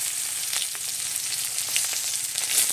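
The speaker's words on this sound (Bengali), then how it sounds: "নেড়ে চেড়ে পেঁয়াজটাকে ভেজে নিয়েছি।" Chopped onion sizzling in hot oil with dried red chili and five-spice seeds, a continuous bright crackling fry with scattered pops, close and fairly loud, with no talking.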